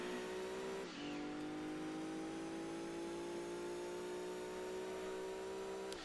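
A race car engine in Gran Turismo 2 gives a sustained, steady high whine. A quick drop in pitch like a gear shift comes early, then the tone climbs slowly and evenly as the car accelerates, moderately loud with no talking.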